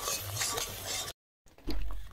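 A spoon stirs a paste of ground poppy seed and cashew into oil in a pan, giving soft close scraping and rubbing with a short silent break partway through.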